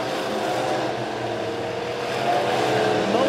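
Midwest Modified race cars run a heat race on the Springfield Raceway dirt track, their engines a continuous loud roar that swells slightly near the end as the field passes.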